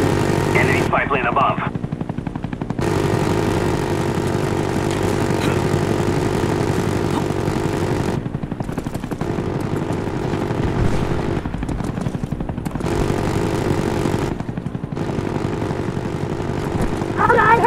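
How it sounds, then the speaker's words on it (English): A helicopter in the video game Call of Duty Black Ops drones with a steady rotor and engine hum throughout, while players talk over it and brief noisy bursts break in. "Oh, no, helicopter!"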